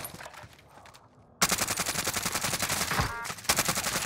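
Automatic weapons fire in Call of Duty Warzone opens suddenly after a quiet start, then keeps up rapid, loud bursts of machine-gun shots with brief gaps, with no speech over it.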